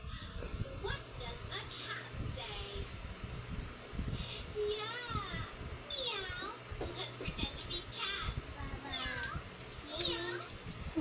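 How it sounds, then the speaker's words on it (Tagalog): Several meows from a cat on a children's TV show sound over a room where a child and an adult talk, with rustling close by. "Miming meow meow."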